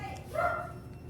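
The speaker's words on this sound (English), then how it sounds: "This must be somebody here because my dogs are barking." Dogs bark and yip briefly in the distance, a quick burst over a quiet indoor background.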